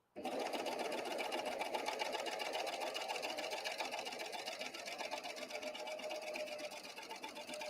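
A serger sewing machine stitches lace in one continuous fast whirring run, close and steady with a rapid mechanical chatter, starting abruptly and running alone without speech.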